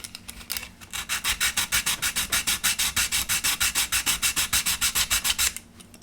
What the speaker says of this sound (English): So taking 100 grit, we can take this down really quickly.